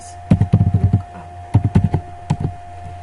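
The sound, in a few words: typing the nslookup command on a computer keyboard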